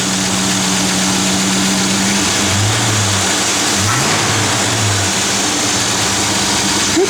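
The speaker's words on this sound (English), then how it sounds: "just a good running small block Chevy" A 1955 Chevrolet Bel Air with a 283 small-block V8 idles steadily at moderate volume, its low rumble broken by a few short blips of the throttle.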